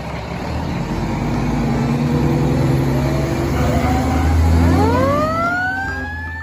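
A toy fire truck plays its electronic siren, a rising and falling wail that sweeps upward near the end, loud and close with a steady hum underneath.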